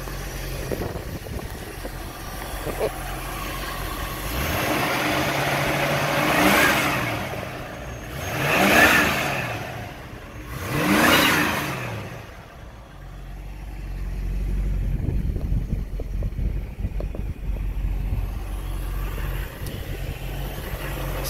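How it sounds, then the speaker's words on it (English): A 1967 Ford Mustang fastback Shelby clone with an S-code GT engine idles with a rumbling V8 note, then revs up in three rising and falling throttle blips before settling back to a loud, steady idle. "Engine sounds good."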